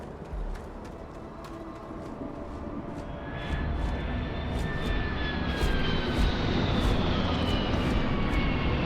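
A spaceship in the game Starfield roars overhead, a steady jet-like engine rumble that grows louder and rises in pitch as the craft nears.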